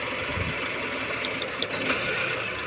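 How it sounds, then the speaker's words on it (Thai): A Honda engine runs roughly with one ignition coil pulled, a steady uneven idle with slight stumbling, heard close and alone without talk. "เครื่องยนต์มีอาการจะดับนะครับ"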